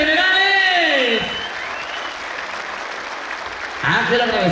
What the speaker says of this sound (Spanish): ¡Venga, fuerte el aplauso por el general de generales!